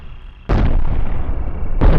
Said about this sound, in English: Let's have a look at the rail cannons. How are they doing?